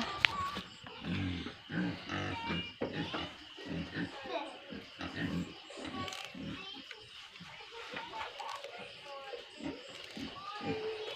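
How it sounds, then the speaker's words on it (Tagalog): Pigs grunt from a pen on a farm behind a talking person, their low oinks rising now and then under steady speech, with children's voices in the background. "so may tangkal ina kami dira sang baboy"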